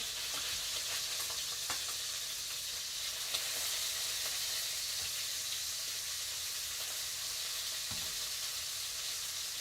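Chicken pieces searing in a hot pan for chicken and dumplings, giving a steady, loud broadband sizzle throughout with a few faint clinks and stirring scrapes, and no talking.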